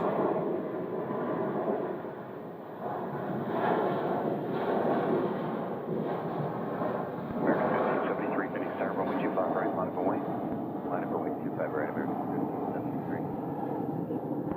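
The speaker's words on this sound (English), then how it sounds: "A 737-900ER, to be more specific, because Alaska does have both the ERs and the non-extended range." Alaska Boeing 737-900ER jet at Phoenix airport, a broad distant engine roar that swells and rumbles continuously outdoors, with wind buffeting, while someone talks over it.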